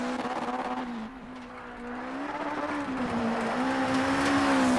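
In the rally video game WRC 8, a Lancia rally car's engine revs and drones with rising and falling pitch, loud and continuous, with a faint hint of tire noise and no voices.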